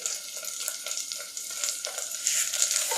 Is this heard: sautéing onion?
yes